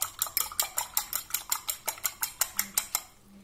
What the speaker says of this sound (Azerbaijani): Yumurtanı çalıb üzərinə əlavə edirik.